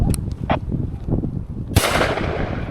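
A shotgun fires at a pheasant during a hunt, one sharp loud blast cracking out partway through and tailing into a noisy decay over faint outdoor sounds and bird calls.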